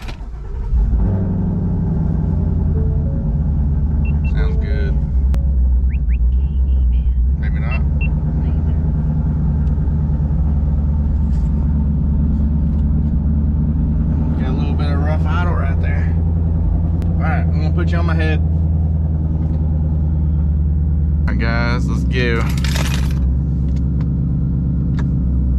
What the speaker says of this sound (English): let's get a cold start in